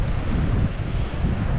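Steady wind blowing across an open winter beach on the Bristol Channel near Selworthy, a continuous low rumbling buffet on the microphone with breaking surf mixed in, no voices.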